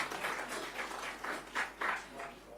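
Faint, distant applause from an audience at the 66th National Film Awards announcement, a scattered patter of clapping with small swells, heard alone for a couple of seconds.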